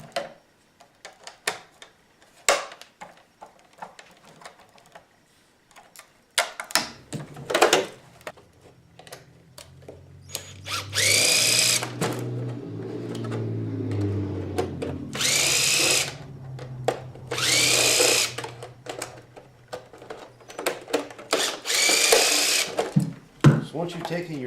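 A power driver backs out 2.5 mm Allen screws from an E-Revo 2.0 RC car body, sounding as several short whirring bursts mixed with clicks and handling noises, with someone talking between runs.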